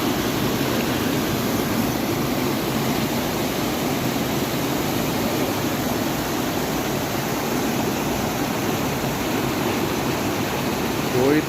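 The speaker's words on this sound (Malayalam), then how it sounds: "കോഴിപ്പാറ വാട്ടർഫാൾസ് വരുന്ന വെള്ളമാണെന്നാണ് പറഞ്ഞത്." Water rushes steadily from Kozhippara waterfalls near a resort at Anakkampoyil, Kozhikode. A flow reduced after rain makes a constant, even broadband roar that stays close and unbroken throughout.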